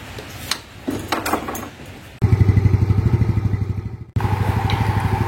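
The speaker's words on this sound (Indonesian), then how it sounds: "Sekarang kita coba starter motornya." A motorcycle engine, fitted with a hand-turned CVT pulley, starts after some clatter and runs in a loud, close, rapid putter, cuts out briefly, then catches again.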